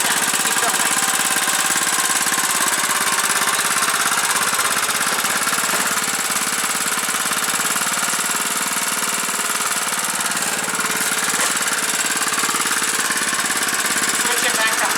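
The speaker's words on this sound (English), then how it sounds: "Now to start mowing again." A lawn mower runs steadily during its first mow of the 2020 season, with a loud, close, continuous engine drone and no break for the full stretch.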